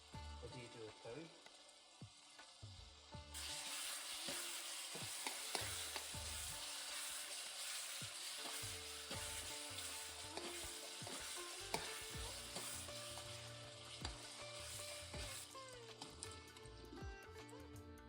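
Spinach frying and stirring in a pan of potato tomato curry (aloo curry), with a steady loud sizzle and intermittent scraping clatter of the spoon that runs throughout; some talk underneath.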